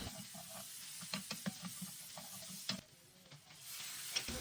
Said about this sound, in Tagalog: igigisa na natin itong bawang at saka yung sibuyas